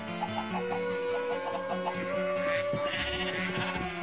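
Sheep in the video game Minecraft bleat several times over a steady bed of game music, the short calls fairly clear and fairly close.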